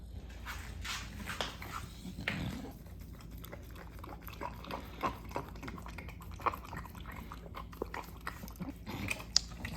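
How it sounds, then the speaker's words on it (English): A bulldog eats a pup cup up close, with wet smacking, licking and chewing, snuffly breaths and small grunts coming in irregular bursts at low volume. "I already started eating my pup cup"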